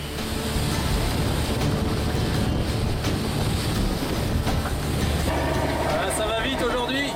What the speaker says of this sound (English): Here's a rear roaring 40 squall.